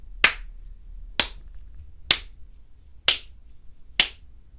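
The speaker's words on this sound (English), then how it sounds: "Count my claps." A teacher claps her hands five times, evenly spaced about a second apart, each clap sharp, close and alone against a quiet room.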